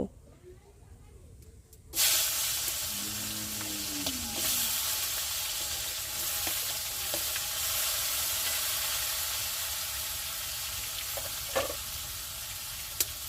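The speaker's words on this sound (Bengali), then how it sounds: "এবার কাঁকড়াগুলো তেলের মধ্যে দিয়ে দেব।" Sea crabs drop into hot oil mixed with turmeric and set off a sudden, loud burst of sizzling, which settles into a steady, dense crackle and hiss with a few sharper pops. Brief scraping stirs come near the start.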